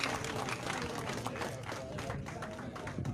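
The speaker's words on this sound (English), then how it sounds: "Let's clap for those people." A crowd claps to welcome new NUP party members at a political gathering, a continuous, fairly loud wash of applause with crowd noise and voices mixed in.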